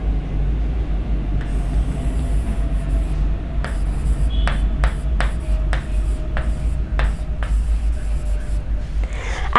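Marker or chalk strokes on a classroom board during a human respiratory system lesson, a series of short, crisp squeaky scrapes in quick succession over a steady low background hum, with no talking.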